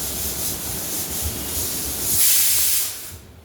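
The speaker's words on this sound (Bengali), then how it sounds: "দেখো সিটি উঠছে কুকারে" A kitchen pressure cooker boiling potatoes vents steam in a loud, continuous broadband hiss that swells briefly near the end before cutting off.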